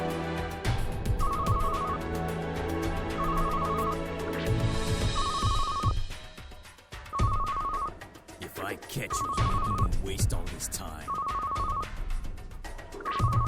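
A phone rings in the 2014 point-and-click game Shadows on the Vatican Act 1: Greed, a repeating electronic ringtone in regular bursts over steady game music while someone speaks throughout.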